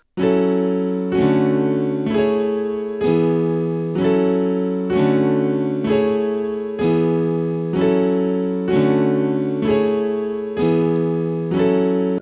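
Repeating synthesized chords made in FL Studio 20 struck in a steady rhythm, each sustained briefly before the next, clear and alone with no voices.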